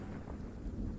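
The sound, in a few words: rain and thunder outside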